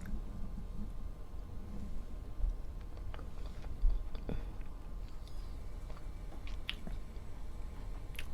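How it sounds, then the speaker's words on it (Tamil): Quiet close chewing and soft wet biting of chicken puttu eaten with sambal, irregular squishy mouth sounds at low level with no talk. "இவ்வளோ இந்த சம்பலோடையும் சேர்த்து சாப்பிட்றேன்."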